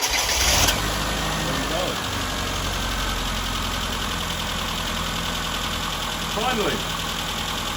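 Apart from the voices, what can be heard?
Classic Mini engine starting and idling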